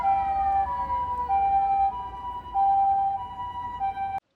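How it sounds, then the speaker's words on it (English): An ambulance siren in Tokyo wails with a two-tone alternating pattern, loud and steady, then stops abruptly. "Ambulances seem to be louder in Tokyo than anywhere else."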